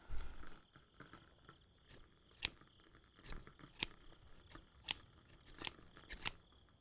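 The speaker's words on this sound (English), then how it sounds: "here, I need to cut your gown." Close, quiet scissors snip through a gown fabric in a slow series of about a dozen crisp cuts with soft rustling between them, no voice heard.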